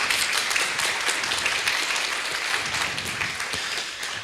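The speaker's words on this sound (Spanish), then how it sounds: "Denle un aplauso al Señor por eso" Church congregation applauding during a sermon, a steady wash of clapping held for several seconds at moderate distance with no talk over it.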